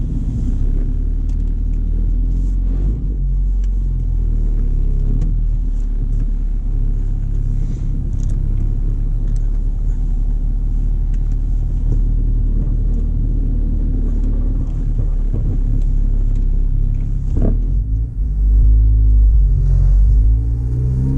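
2011 Mazdaspeed 3 driving steadily, a continuous low engine rumble and road drone heard from inside the cabin, with a brief knock near the end.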